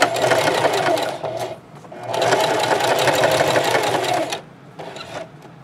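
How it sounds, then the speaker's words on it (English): A sewing machine stitches a seam on a two-color scrub cap, buzzing loudly and up close in two long runs with a brief pause between, then a short burst of back stitching. "Stitch down, and I'm going to do a couple of stitches and then back stitch."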